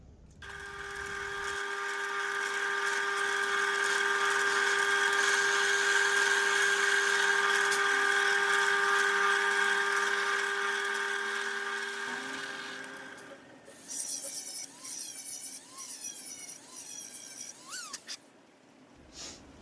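Drill spinning a Forstner bit into mahogany or maple, a steady high whine for about twelve seconds, then rougher, choppier cutting noise as the bit bites, close and fairly loud.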